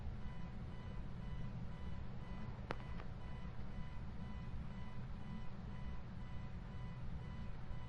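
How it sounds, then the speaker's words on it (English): Car engine idling steadily in the video game Phasmophobia, a continuous low rumble filling the scene with a couple of faint high beeps near the middle. "you just have to listen to that car go for the entire time"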